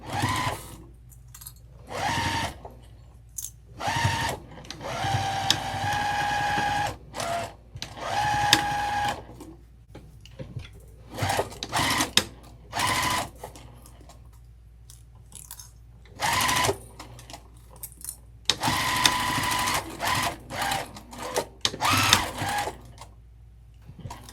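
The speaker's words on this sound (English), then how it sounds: "I'm just going to sew this across." A sewing machine stitches across a crossbody bag in several rapid whirring bursts separated by quiet pauses, close and fairly loud.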